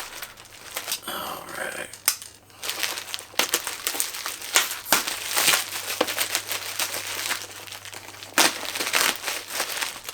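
Packing peanuts and bubble wrap crinkle and rustle up close in irregular bursts while a statue is unpacked, with a low steady hum underneath and a brief word spoken.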